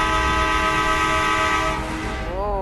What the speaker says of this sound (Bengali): আবার গাড়ির রাস্তা, হরেন দেই।